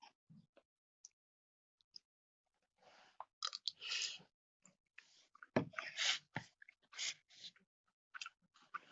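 Quiet chewing during a meal, with soft scattered mouth clicks and crunchy bursts at irregular intervals between pauses, close to the microphone.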